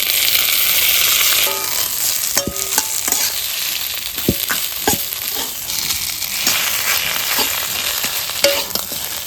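A hilsa fish head hits hot oil in a pan of taro leaves, setting off a loud, steady sizzle with scattered crackles and sharp stirring clicks throughout, no voices.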